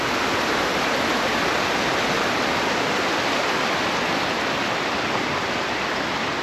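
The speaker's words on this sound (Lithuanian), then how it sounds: "Upeliukas drumstas, iš miško teka rudas vanduo." A muddy brown forest stream in the Black Forest flows in a steady, dense rush of water. It sounds close and uniform, with no voices over it.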